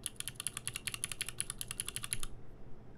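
Rapid keystrokes on a keyboard fitted with stock BlackBerry switches, a steady run of close, crisp clicks for about two and a half seconds before stopping abruptly.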